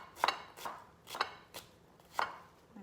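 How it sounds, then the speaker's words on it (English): An onion is chopped with a knife on a board, five crisp separate knife strikes spaced irregularly about half a second apart, close and clear. "then we are going to chop our onion"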